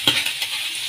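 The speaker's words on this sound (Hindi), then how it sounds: "प्याज लहसुन को हम फ्राई कर लेंगे।" Onion and garlic frying in a pan, a short close burst of sizzle with a quick stir at the start that settles into a softer hiss.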